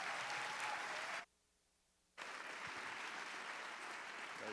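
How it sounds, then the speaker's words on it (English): Audience applause for comedian Mary Mack at a comedy show, a dense steady roar of clapping that cuts out abruptly for about a second before resuming just as strongly, no voices on top. "Mary Mack, ladies and gentlemen. Give her a round of applause."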